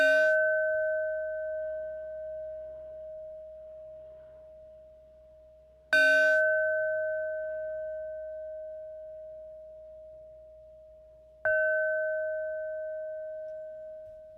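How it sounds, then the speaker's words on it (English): A bell rings three times at spaced intervals, each strike bright and clear with a long, slowly fading sustained tone, heard alone in a quiet room. "So let's have some bells."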